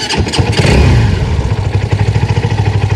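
A Honda Titan 150 motorcycle engine fitted to a mini boat on a lake starts with a clattering crank, then settles into a loud, steady, rapidly pulsing idle close by.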